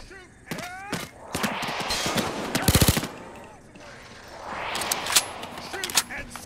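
Bursts of automatic and single gunfire ring out in the video game Payday 2, loud and close, with shouting voices between and over the shots.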